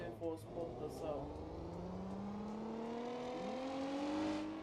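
A loud demolition derby car with a reinforced bumper and a roll bar holds a steady engine drone that slowly climbs in pitch as it revs up, close and continuous, dipping briefly before rising again.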